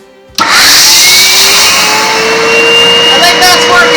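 A Numatic Hetty vacuum cleaner switches on abruptly, its motor spinning up to a loud, steady high-pitched whine that continues close by without pause.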